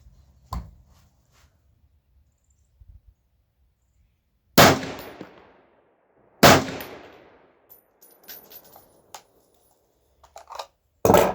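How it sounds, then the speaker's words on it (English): Remington 7400 semi-automatic rifle fired outdoors: two loud, sharp shots about two seconds apart, each with a ringing decay, followed by softer clicks and a metallic clatter from the action and a final sharp bang. "We'll shoot these 2 and then we'll let it cool down a bit."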